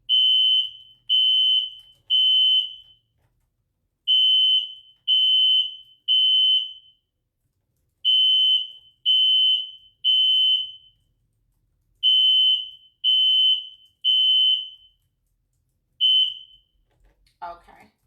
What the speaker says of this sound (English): they're checking the alarms in the building